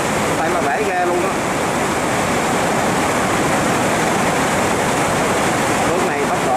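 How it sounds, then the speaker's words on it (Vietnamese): Fast water rushes hard through a gate of a ten-gate dam in a loud, constant roar, with a voice briefly audible over the torrent. "Nước này tốc độ nó chảy rất là kinh hoàng nha."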